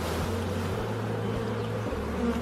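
Honey bees buzzing at an opened beehive in early spring, a close, dense drone with shifting pitches as individual bees pass near, continuous and loud throughout.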